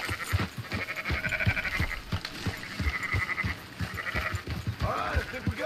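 Sheep bleating in Red Dead Redemption 2, several overlapping wavering bleats repeating through the clip over steady footsteps and hoof clatter from a herd nearby.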